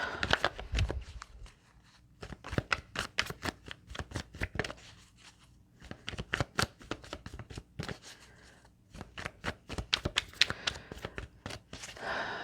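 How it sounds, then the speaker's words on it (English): Tarot cards shuffled by hand at close range, a run of crisp riffling bursts and soft slaps with short pauses between rounds, with no talking. "Working with the tarot cards as focusing tools."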